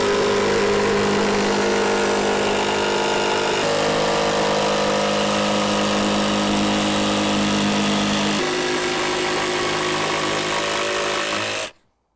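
A power tool cuts through a piece of timber for a model railway helix, giving a steady, loud mechanical whine that shifts pitch a couple of times before stopping abruptly.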